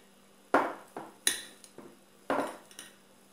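A utensil clinks and taps against a bowl while a pastry filling seasoned with dried parsley is stirred, about six sharp knocks at uneven intervals, close and fairly quiet.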